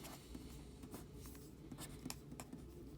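Quiet, close writing strokes on a board during a math lesson, with short scratchy marks in an irregular rhythm and no talking.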